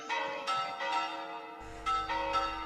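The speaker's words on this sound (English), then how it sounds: "alarm bells start to ring out across the city" Alarm bells ring out across a city as a tabletop game sound effect, with several loud, resonant bell strikes arriving at an uneven pace and overlapping into a sustained, humming chime.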